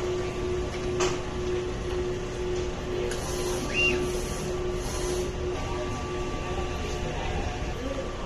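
A printer runs a nozzle check, giving a low mechanical hum with brief whirring and clicking bursts under faint room noise. No one speaks.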